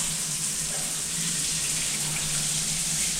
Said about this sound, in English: you're going to want the hot water to go down the whole tip of the rod